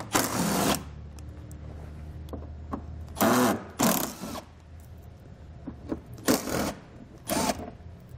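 A 10mm socket wrench backs bolts out from the underside of a 2017 Toyota Highlander during a trailer hitch install, heard as several short, close ratcheting bursts separated by quiet pauses.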